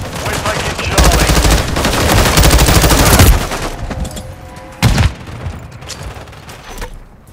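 Gunfire in a Call of Duty Modern Warfare III multiplayer domination match: loud, close bursts of rapid automatic fire in the first few seconds, then a sharp single shot and scattered quieter shots as the fight trails off.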